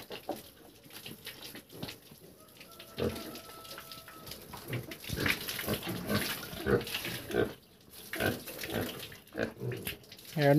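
A farm pig being bathed with water on a hot day, with snorts and grunts mixed with splashing and pouring water and people talking at a moderate distance.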